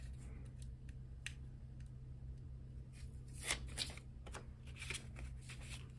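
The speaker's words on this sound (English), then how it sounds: "And I will just peel this off and stick it on the back." A sticker being peeled from its backing and pressed onto the back of a handmade artist trading card, soft close crackles and taps over a quiet room hum.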